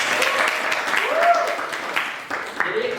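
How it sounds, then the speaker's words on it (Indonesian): A classroom of students applauds briefly during a camera lesson, steady clapping with a teacher's voice and other voices talking over it. "Oke, tepuk tangan."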